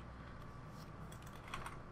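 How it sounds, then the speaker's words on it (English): A computer keyboard is tapped one key at a time with a single finger, giving faint, sparse clicks over a low steady room hum. "I'm just going to stop typing with one finger."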